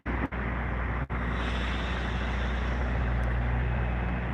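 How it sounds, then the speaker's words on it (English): Heavy trucks loading up near a street corner make a steady, loud rumble of engines and road noise, with two brief dropouts near the start. "I ain't know they was gonna have all kind of trucks loading up"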